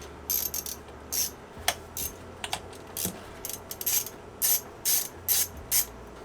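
A ratchet loosens the fuel injector lines on a Honda D16 engine: a series of short, sharp clicking bursts in irregular groups, fairly close and with nobody talking.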